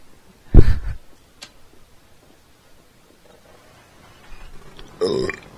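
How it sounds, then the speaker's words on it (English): One loud, throaty burp after eating lemon cake erupts early, then quiet follows with faint ticks before a brief rough noise near the end. "That was a lemon cake burp."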